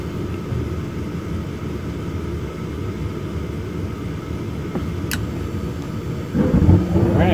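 A gas furnace on a newly installed heating system lights off, a steady low burner rumble and hum running throughout, swelling slightly louder near the end.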